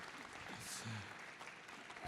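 Audience applause at a supply chain conference, a faint patter of clapping spread across the room with a voice speaking over it partway through.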